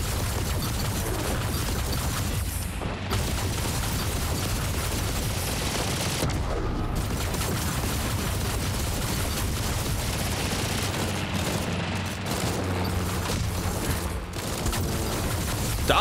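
Sustained gunfire in the VR shooter Defector during a boss fight, with dense rapid bursts and booming shots running continuously and loud throughout, with no talking.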